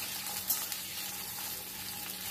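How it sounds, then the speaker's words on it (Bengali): Onion petals stir-frying in white oil over a high gas flame, a soft continuous sizzle with faint stirring scrapes, quiet and close, no talking. "এর মধ্যে দিয়ে দিলাম পেঁয়াজের পাপড়িগুলো, দিয়ে একটু নাড়াচাড়া করে নিচ্ছি।"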